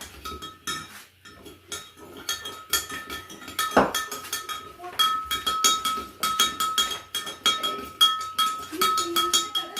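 A spoon stirs sugar into an orange icy fruit drink, giving rapid, continuous metallic clinks and rattles against the glass, close and fairly loud.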